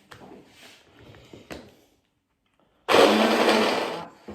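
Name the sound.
blender grinding onions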